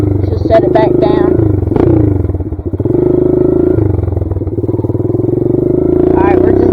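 Kawasaki KLX140 dirt bike engine revving and idling as the rider practices popping up wheelies and setting the front back down, loud and close with rising throttle bursts; someone talks over it.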